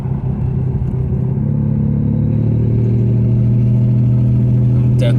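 A Mercedes SL R129 with a faulty EGR valve drives along, its engine a steady, loud rumble with a low droning tone that holds throughout and swells slightly toward the end.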